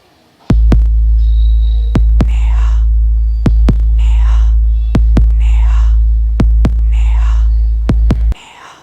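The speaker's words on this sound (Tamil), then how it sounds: "என்னோட ஹார்ட் பீட் கேளு." A heartbeat thumps in slow doubled beats over a loud, constant low hum, repeating steadily and close, with faint breathy whispering between the beats.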